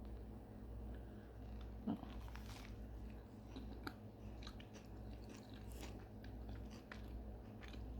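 Someone eats a homemade paneer cheese sandwich, with faint, close bites and scattered crunchy chewing sounds over a low steady hum and no talking.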